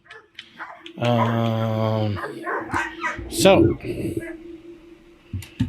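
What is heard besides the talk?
dog barking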